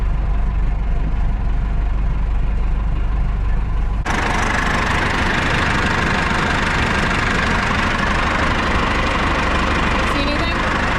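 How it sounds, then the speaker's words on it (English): An old tractor engine idles steadily and fairly quietly in neutral, a continuous low rumble with light knocking that grows fuller and louder partway through and runs to the end. "what gets me about it is such a quiet tractor"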